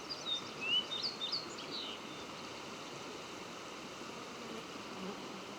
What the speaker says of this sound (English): I can hear the song sparrows and pine siskins.